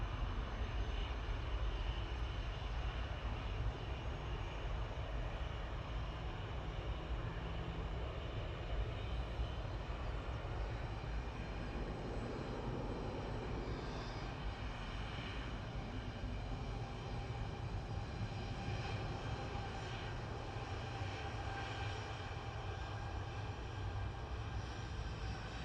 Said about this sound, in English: In the background is going to be Aer Lingus from Belfast, ATR 72600